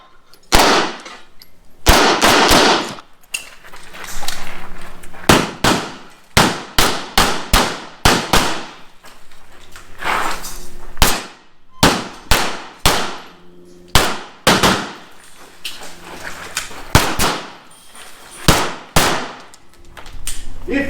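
Pistol gunshots fired in quick strings on an IPSC practical shooting range, loud sharp cracks in bursts of two to five with short pauses between strings, no talking.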